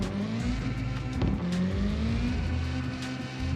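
Engine of a drift car in CarX Drift Racing 2 at full throttle as it spins out, a loud, steady high-revving drone with shifting pitch and a thin tire squeal running through the whole stretch.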